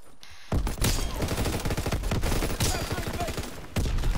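Dense, rapid gunfire in the World War II shooter game Call of Duty: WWII, near and loud bursts of rattling shots running almost continuously after a brief quiet start, no speech.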